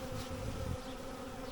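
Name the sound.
honey bees buzzing from a caught swarm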